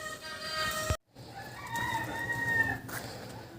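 Hens cluck steadily in the background while a rooster crows, his call rising and stretching out over the farmyard chatter, fairly faint and distant.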